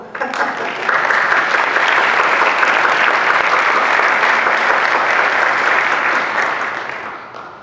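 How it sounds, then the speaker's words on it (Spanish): An audience at a book presentation breaks into sustained applause, a dense, steady wash of clapping that swells quickly, holds for several seconds and then begins to fade. "un aplausísimo"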